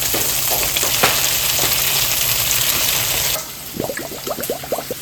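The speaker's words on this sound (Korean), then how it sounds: "어제 된장찌개 끓이고 남은 두부도 부쳐봅니다." Leftover tofu pan-fries in a hot pan with a loud, close, steady sizzle, which drops off sharply partway through into quieter crackles and a few utensil scrapes.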